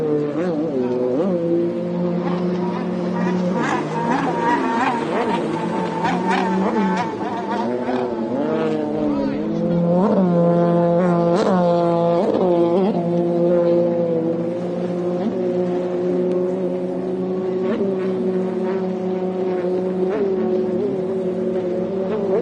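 Race cars roar around a Lawrence, Kansas dirt track on a Sunday as the leader crosses the finish line, engines droning and rising and falling in pitch as several cars pass in a loud, continuous pack.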